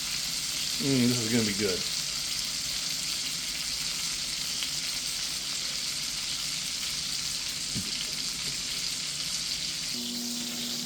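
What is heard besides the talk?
pork chops frying in a pan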